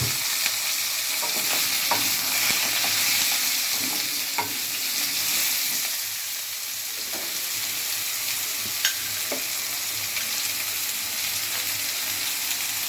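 Vegetables with potato and ridge gourd sizzle and fry in a pan of hot oil for a thin pabda fish curry, with steady frying hiss and repeated scraping stirs close by, no talking.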